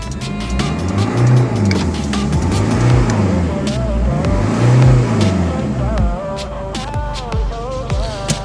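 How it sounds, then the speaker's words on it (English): A Ford Fiesta Mk6 TDCi engine, fitted with a Focus RS intercooler, revs hard several times, rising and falling in loud, high-pitched surges close by, with brief crackles between. "give it a good few high revs, make sure those pipes don't pop off"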